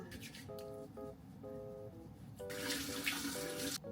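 A bathroom tap runs steadily while someone washes their face at the sink, the flow growing louder and splashier partway through, with soft tonal chimes sounding alongside.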